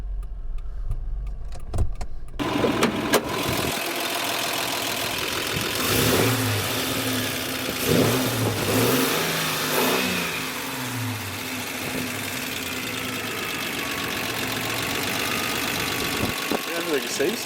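A Toyota Land Cruiser engine runs steadily at close range after a breakdown with lost power steering, with a few rises in revs and a mid-pitched drone that continues throughout.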